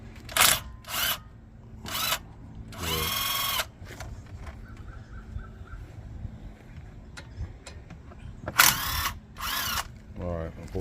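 A power tool removes 14 mm brake caliper bolts on a 2020 Nissan Rogue, sounding as several short, loud bursts of whirring between quieter pauses, with faint background noise.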